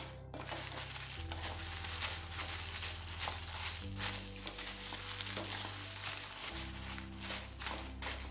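Sardine fish curry ingredients, including fenugreek and tamarind, fry and are stirred in a pan with a steady hiss and soft scraping, while sustained background music plays.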